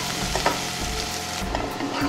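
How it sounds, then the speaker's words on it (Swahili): Onions frying in a hot pan until they turn brown, a loud, close, unbroken sizzle and crackle that stays steady throughout, with no speech over it. "Tunakaanga mpaka vitunguu vyetu viwe brown"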